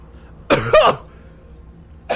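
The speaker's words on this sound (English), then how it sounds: "That cough came out of nowhere." A single person coughs loudly and close by, a harsh double burst, during a Skyrim game session, followed by quiet and a brief further sound at the end.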